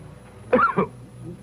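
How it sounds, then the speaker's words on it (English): Two short, harsh coughs in quick succession, close and fairly loud, over a quiet room. "How long have you had that cough?"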